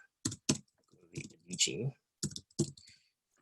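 A computer keyboard clatters in short, uneven bursts of clicking keystrokes, close and fairly loud, separated by brief silences.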